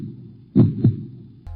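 Two thumping heartbeat beats close together, low and muffled, a lub-dub pair followed by a pause and the start of another beat, with no talking.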